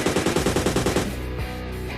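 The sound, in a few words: gunfire in the video game PUBG Lite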